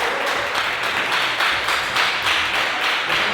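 A church congregation applauds in praise during a Portuguese-language sermon, steady dense clapping from many hands filling the room, loud and continuous with a slight pulsing rhythm.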